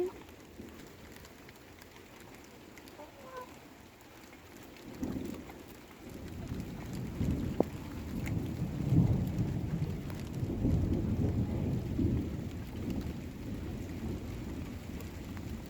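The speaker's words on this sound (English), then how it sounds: "Here comes the rain." Heavy rain falls in a thunderstorm near a backyard silkie chicken flock. A steady patter starts quiet, then deep thunder rumbles roll in and swell, and the rain stays loud and continuous after them.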